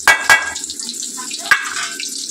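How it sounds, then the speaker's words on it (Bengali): Eggplant (brinjal) frying in a pan, a steady crackling sizzle throughout with a few sharp pops and spatters near the start and one midway. "দেখো বেগুন ভাজা হচ্ছে"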